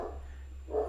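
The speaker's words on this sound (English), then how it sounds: "Sometimes with her, she just barks at nothing." A dog gives a short bark or two, moderately close, over a low steady hum.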